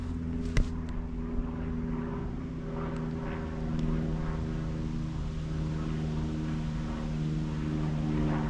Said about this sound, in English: there's a lot of aeroplanes in this area. A lot of small planes.